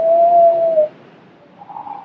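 A voice imitates a pigeon's coo: a steady hooting tone, then a short pause and a softer, wavering coo, close and alone.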